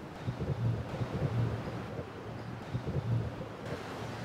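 Gusty wind buffeting the microphone over a low rumble of surf on the Myrtle Beach boardwalk on a cold January day, steady and blustery with no voices.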